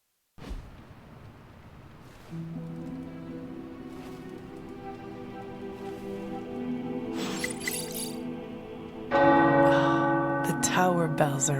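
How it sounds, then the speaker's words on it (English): Tower bells ring in the Marvel's Midnight Suns video game: several struck peals with long, sustained metallic tones that layer and grow louder, ending in a bright, dense clang, with no talking. "The tower bells are ringing."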